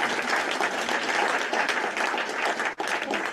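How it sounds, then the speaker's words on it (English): An indoor audience gives a sustained round of applause after a role play, dense clapping at a steady level with a brief dip near the end. "Let's give her a round of applause."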